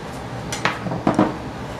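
A utensil cuts into bread pudding in a pan, giving a few light metallic scrapes and clinks against the pan, spread over a couple of seconds and heard close up with no talking.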